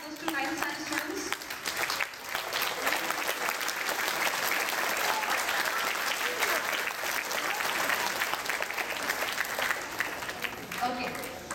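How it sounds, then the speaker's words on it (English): An audience applauds students at a school gathering, sustained dense clapping filling the room at steady loudness, with faint voices mixed underneath. "But please clap up."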